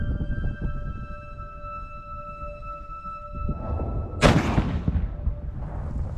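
A U.S. Marines artillery gun fires a single loud, sharp blast that rolls off into a fading rumble, heard outdoors over steady wind and a faint background tone.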